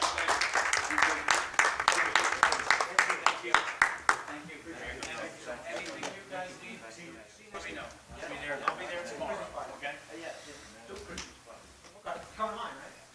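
Audience applause at a Roselle Park council meeting: a burst of loud, dense clapping from the room for the first few seconds, then fading into scattered claps under people talking and saying goodbyes.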